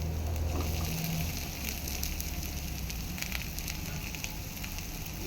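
Rohu fish sizzles steadily in a pan of oil with fried onions, a constant close crackle with a faint low hum underneath.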